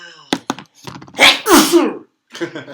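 A sharp, explosive sneeze bursts out after a couple of quick snorts of pine resin, followed by a drawn-out groaning exhale and a few softer sniffs.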